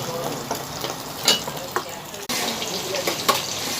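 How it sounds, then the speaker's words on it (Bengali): Fish sizzles and spits steadily in a hot pan at home, a continuous frying hiss with a few clinks and stirring knocks, no voices. "এখন মাছ ভাজা হচ্ছে।"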